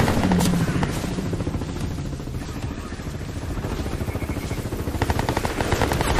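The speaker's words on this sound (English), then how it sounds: "Oh, you got a helicopter?" A helicopter's rotor thumps in a fast, steady pulse with engine drone, loud and close, with faint game effects mixed in, in the shooter game Crysis 3.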